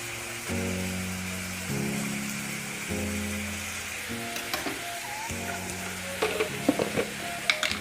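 Khichdi with slit green chillies and turmeric is stirred in a pan, a steady close frying sizzle broken by several scraping strokes of the spoon, with sharper clicks near the end and no talking.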